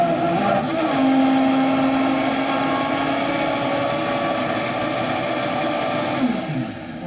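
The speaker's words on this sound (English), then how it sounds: "That's why I live for that Vitamix, man." A Vitamix blender runs at high speed, a loud and steady whirring roar close by that holds for several seconds, shifting slightly in pitch as it blends.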